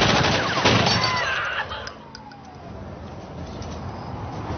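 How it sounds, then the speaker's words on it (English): Heavy gunfire in a Hancock movie trailer, with a burst of sharp shots early on, blended with other trailer sound effects that fade toward the middle. "Heavy gunfire exchanged."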